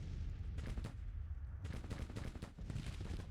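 Massed infantry gunfire in an American Civil War strategy video game, rolling volleys of overlapping shots and booms at a steady distance, no talk.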